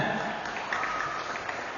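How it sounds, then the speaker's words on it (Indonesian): A room of madrasah students gives a classmate a round of applause during an orientation session, a dense, steady patter of clapping from many hands close by. "Dan tepuk tangan buat kawannya."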